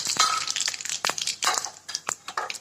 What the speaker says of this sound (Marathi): तेल गरम झाले चांगलं ह्याच्यामध्ये मी हे टाकते मोहरी टाकते आता जिरे टाकते